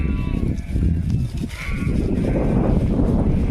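Sheep bleating near a mare as the flock crosses a bridge, a few harmonic calls rising over a steady, fairly loud rumble of movement and background noise.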